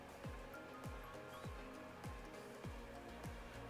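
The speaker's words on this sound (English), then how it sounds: "that's my drying machine" A clothes dryer tumbles in the next room, faint and muffled, with a regular thumping beat about every 0.6 seconds over a low steady drone.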